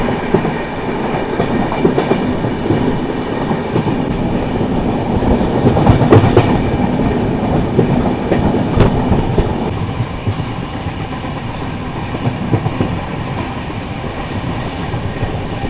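Barak Brahmaputra Express passenger train running on a single-line section, with a loud, continuous rumble and rhythmic clickety-clack of wheels over rail joints heard from onboard throughout.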